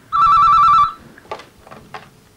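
An old telephone rings with a trilling electronic burst lasting under a second, loud and close, followed by quieter background clatter and faint sounds.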